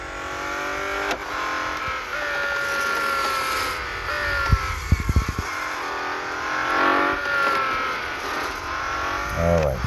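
A Bugatti Divo's engine revs loudly in a racing video game, climbing through gears with rising and falling whine, and a brief cluster of clattering knocks near the middle.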